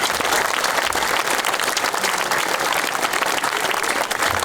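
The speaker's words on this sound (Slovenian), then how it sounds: "aplavz vseh prisotnih na tej slovesnosti" Applause from everyone attending a municipal ceremony in Kranjska Gora, a dense, steady wash of many hands clapping that fills the whole stretch at close, even loudness.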